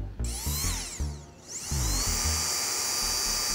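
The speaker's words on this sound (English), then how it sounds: "this very powerful air blower" A powerful Kicker handheld air blower puffs and hisses close up: several short squeezes at first, then a longer sustained rush of air with a rising whistle.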